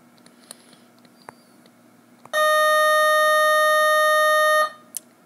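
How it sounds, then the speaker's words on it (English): A school bell rings in a classroom as a loud, steady electric tone lasting about two seconds, then cuts off, with faint background noise around it. "Ignore that bell."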